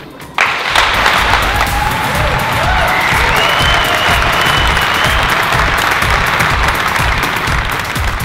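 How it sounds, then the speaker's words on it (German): A large crowd at the re:publica conference bursts into applause that starts abruptly and stays loud and dense throughout, with a few cheers and whistles rising above the clapping. "Wir sagen Applaus für diese Jugend."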